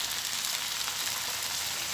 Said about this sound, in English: Fry this pot for a few minutes